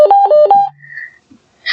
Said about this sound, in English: classic ringtone number 7